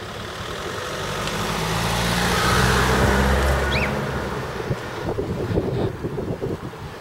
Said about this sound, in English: Let's move over for these cars.